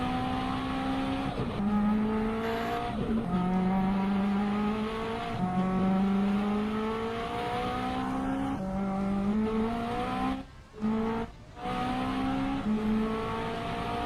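Hoverboard meme sound effect from an old Neos toy in a metaverse game: a loud, engine-like whine that climbs in pitch, drops and climbs again in repeated revving sweeps, briefly cutting out twice near the end.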